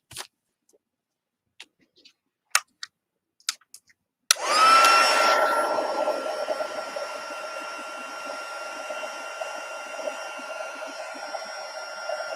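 A small heat tool switches on with a sharp click and then blows in a steady, loud whoosh that dries ink on a paper pumpkin card, preceded by a few faint clicks and taps.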